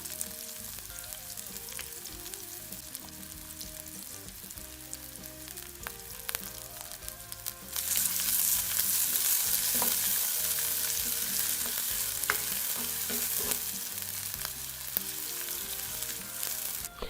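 Chopped onions, curry leaves, pandan and cinnamon bark fry in hot oil with a continuous sizzle that surges louder and brighter about halfway through, then crackles on steadily with faint stirring.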